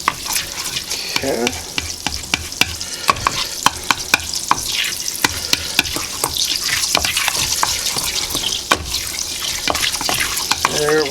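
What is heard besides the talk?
butter sizzling in a pan over medium heat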